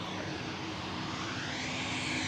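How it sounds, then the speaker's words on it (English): A Virgin Atlantic Airbus A330-300 arrives from Atlanta to land at Manchester Airport, giving a brief, fairly faint, steady jet rumble with a thin sustained whine. No voices are heard. "Virgin's about to touchdown."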